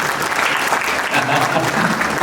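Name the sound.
audience applause for the girls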